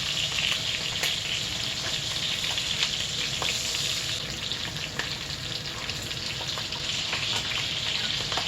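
Sausage and bacon browning in a hot pan, a continuous close crackling sizzle with scattered sharp pops and spatters over a steady hiss, no voices.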